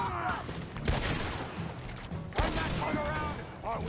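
Two sharp gunshots about a second and a half apart, heard during a rowing shootout in Red Dead Redemption 2, over constant talking and game noise.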